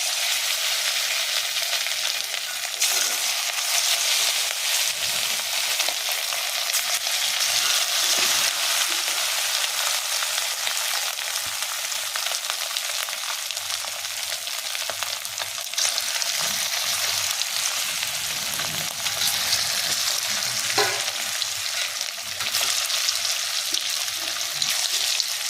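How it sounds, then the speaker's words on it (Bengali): Chicken pieces for chili chicken fry in hot oil in a wok, giving a steady, loud, close sizzle that crackles continuously throughout with no talking. "এরপর কড়াতে তেল গরম হয়ে গেছে, এরপর আমি একটা একটা মাংসের টুকরো ভেজে নেব।"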